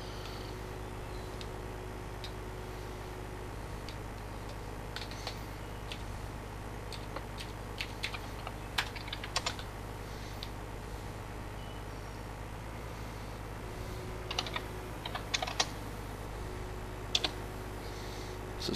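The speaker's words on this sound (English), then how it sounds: "You'll have to tap it out to the keyboard there" Light, scattered key taps on a computer keyboard during a Farming Simulator 2015 multiplayer session, faint clicks spread over a steady background hum.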